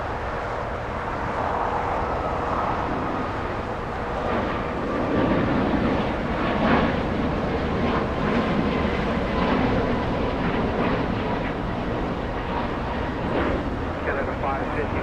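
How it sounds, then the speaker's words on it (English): A Boeing 737 MAX 8 with LEAP-1 engines takes off at Los Angeles International Airport, a steady broadband jet roar building and holding throughout, with a voice talking over it. "That's a 737 MAX 8 powered by Leap 1 engines, getting a move on."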